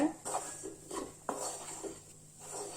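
A spoon scrapes and clinks against a pan while besan flour is stirred and roasted on low heat, several distinct metallic taps and scrapes at a quiet level with faint background talk.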